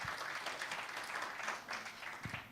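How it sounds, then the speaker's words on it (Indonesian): Church congregation applauding during a worship service, a dense, steady wash of clapping from many hands filling the room, with no talk over it. "kita tepuk tangan dulu yang kenceng buat Tuhan kita yang baik"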